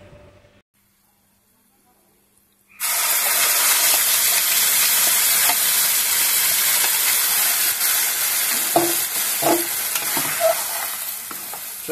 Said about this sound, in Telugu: తాలింపు దినుసులు ఇలా వేగిపోయినాక పల్లీల చట్నీని బాండీలోకి తీసుకుందాం.